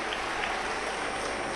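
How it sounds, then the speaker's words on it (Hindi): Brief burst of audience clapping at a Shiv Mahapuran religious discourse gathering, a steady, fairly even roar of many hands heard at a moderate distance for under two seconds. "बहुत जोरदार ताली बजाकर दया सिंह जी के लिए साधु का।"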